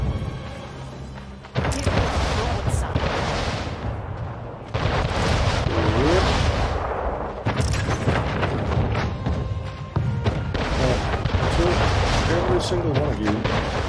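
Ship cannons fire in the Anno 1800 strategy game, heavy booming salvos rolling one after another in loud bursts while a player talks over the battle.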